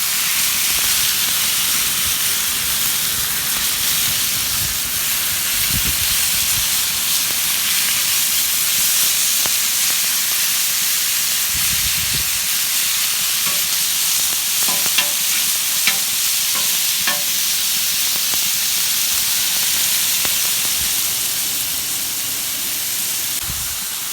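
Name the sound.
veggies and meat frying in avocado oil on flat-top grill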